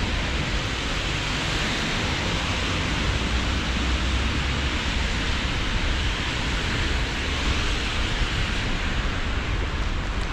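Rain falling steadily during a rainy-day bicycle commute, a dense, constant hiss of even loudness with no breaks and no talking.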